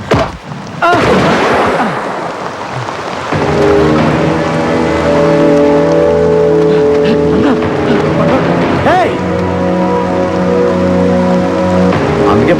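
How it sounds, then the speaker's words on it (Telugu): Heavy rain falls in a steady broadband hiss, with loud sustained droning engine-like tones layered over it for most of the clip. "వర్షం బాగా కురుస్తున్నాయి"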